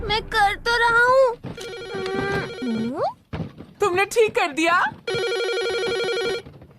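A cartoon telephone rings in bursts of electronic tones, with the longest steady ring near the end, while lively animated voices talk and exclaim between and over the rings.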